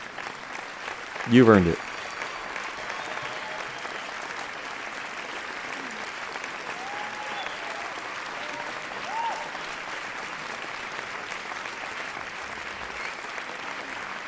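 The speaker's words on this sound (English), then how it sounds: "let's have a round of applause for everybody in the audience tonight" Audience applause at the end of a livestreamed game awards show, a continuous, moderately loud patter of clapping, with a brief spoken remark near the start.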